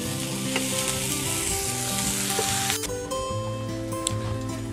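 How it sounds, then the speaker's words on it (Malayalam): Onions sautéed with salt sizzle steadily in a pan, a constant close frying hiss with light stirring scrapes and a brief clatter partway through; no talking. "സവാളയിലേക്ക് ഒരു അല്പം ആവശ്യത്തിന് ഉപ്പ് കൂടെ ചേർത്ത് കൊടുത്തിട്ട് ഒന്ന് നല്ലപോലെ ഒന്ന് വഴറ്റാൻ പോവാണ്"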